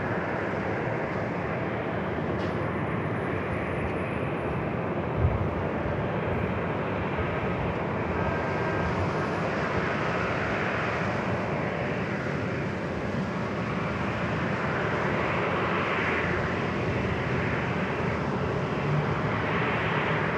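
A Horizon airliner on approach to land on runway 27 at San Diego airport, its engine noise a steady, broad roar that holds at a fairly constant level throughout with no talk over it.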